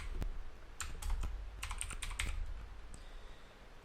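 A computer keyboard being typed on while writing headings in a Word document, with a quick run of close, crisp key clicks in two or three bursts over a low background hum and no talking.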